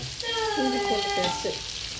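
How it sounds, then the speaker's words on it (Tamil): Ingredients for biryani sauté in a pan until golden, giving a continuous hissing sizzle with a tonal, voice-like sound faintly over it. "கோல்டன் கலர்ல வர வரைக்கும் வெயிட் பண்ணி வதக்கிக்கிட்டே இருங்க"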